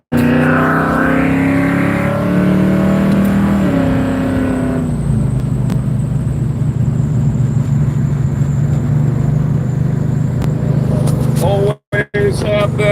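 A Plymouth Barracuda's engine rumbles steadily while driving, with a brief note of revving early on, a low constant drone continuing to the end, and a couple of abrupt cutouts near the finish.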